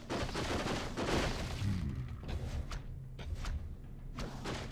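Heavy impacts from a gate being battered down in the Warcraft III video game: loud, dense rumbling crashes and thuds with sharp transient hits, continuous throughout.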